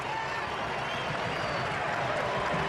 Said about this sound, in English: The German faithful in the crowd erupt.